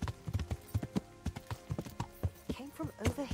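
Horse hooves clip-clop steadily at a walking pace in the medieval video game Kingdom Come: Deliverance, a run of close, even thuds with a brief snort-like sound near the end.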